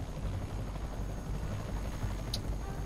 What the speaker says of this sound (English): So now we got helicopters